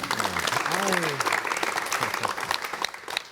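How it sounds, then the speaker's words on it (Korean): A television studio audience claps in a full round of applause, loud and steady, with a voice talking over the start of it. "우리들을 위해서 웃는 것 같으니까 박수 한번 보내줍시다"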